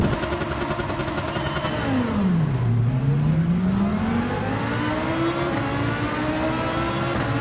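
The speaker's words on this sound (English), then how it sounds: "The Ferrari has an amazing start." Ferrari race car in Gran Turismo 7 at a race start, engine revving loudly, pitch dipping then climbing steadily through the gears, with other cars droning alongside and no talk.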